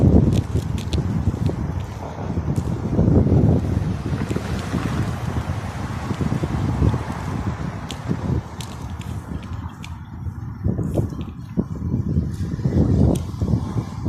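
Steady cold winter wind roars across the microphone by the sea at the Khobar Corniche, with a broadband rushing that swells and eases throughout, surf faintly underneath.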